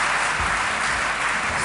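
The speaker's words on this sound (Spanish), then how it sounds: "Por favor, un aplauso" Audience applause at a conference, a steady, dense clapping from a seated crowd heard close and continuous throughout the short moment.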